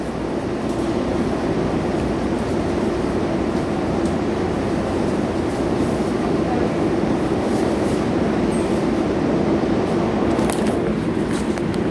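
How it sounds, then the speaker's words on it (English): An R142A 4 express train on the New York subway runs Bronxbound toward Grand Central, a steady loud rumble of wheels and car noise with no voices. "This is a Bronxbound 4 Express train."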